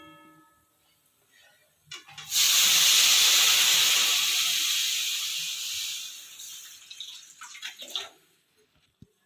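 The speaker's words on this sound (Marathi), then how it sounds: "आता इथे मी दोन ग्लास गरम पाणी टाकलेलं आहे" Hot water is poured into a pan of frying peanut mixture for a spiced peanut amti, setting off a sudden loud hiss of steam that fades slowly over several seconds before a few last crackles.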